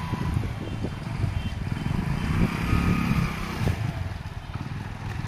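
A motorcycle towing a plan top type bike trailer runs steadily nearby, its engine putting along with a busy low chug and slight surges, alone without talk.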